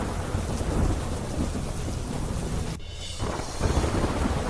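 Heavy monsoon rain pours down in Nawalgarh, Jhunjhunu, Rajasthan, a loud continuous downpour with rumbling thunder and a brief dip before the roar resumes.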